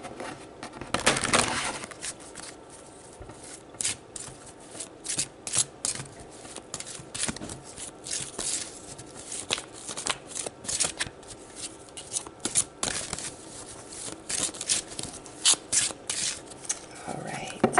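A deck of tarot cards is shuffled by hand at close range, with repeated riffling and sliding card bursts running steadily throughout, no speech over it.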